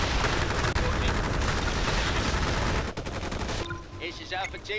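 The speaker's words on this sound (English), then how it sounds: "A turret barrage should solve that problem." Dense, continuous turret barrage rattling loudly through a battle in the strategy game Forged Battalion, the rapid firing easing briefly near the end before resuming.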